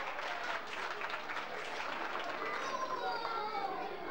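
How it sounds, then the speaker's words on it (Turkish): A crowd claps steadily and loudly throughout, a dense wash of applause with some cheering voices mixed in. "teşekkür ediyoruz ve alkışlıyoruz"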